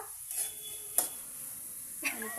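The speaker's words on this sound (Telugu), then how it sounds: "ఉల్లిపాయ పచ్చిమిరకాయ వేగాలి" Onion and green chili frying in a pan for Manchurian, with a low, quiet sizzle and three short utensil scrapes spaced across the stretch, close but faint, no talking.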